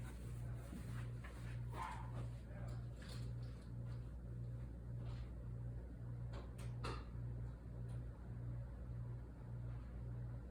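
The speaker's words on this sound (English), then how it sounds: "and if you hear doggies barking" Dogs bark in the distance, a few scattered yaps over a steady low hum and background noise, no talking.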